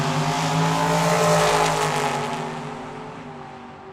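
A dragster pulls away hard down the drag strip at Tucson Dragway, its engine roar loud and steady at first, then slowly fading as the car gets farther off.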